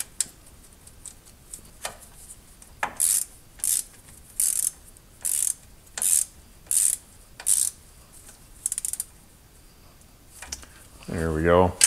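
Ratchet wrench driving a small 8mm bolt that holds a car's analog wheel speed brake sensor, heard as a run of about eight crisp clicking bursts at a steady rhythm, close and clear, with a brief scrape and rustle at the end.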